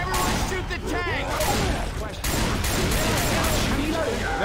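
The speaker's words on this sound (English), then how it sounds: "Everyone shoot the tank!" Rapid bursts of gunfire from the video game Left 4 Dead 2 as players fire at a Tank. The dense, overlapping shots are fairly loud and blend with chaotic game noise and shouting voices.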